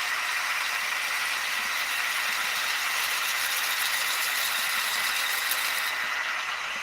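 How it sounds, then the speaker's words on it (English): A wood lathe turning a chair back leg at about 450 rpm, a steady close mechanical hum and whine with faint rattling vibration, unbroken and without voices. "The lathe's only doing 450 revs"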